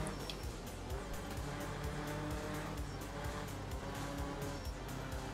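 Sick, dying Group B rally car engine in a racing video game, a rough, steady droning roar with a ragged pulsing beat that holds loud and close throughout, no speech over it.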